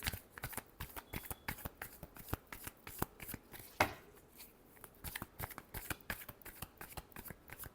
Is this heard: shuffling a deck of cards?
yes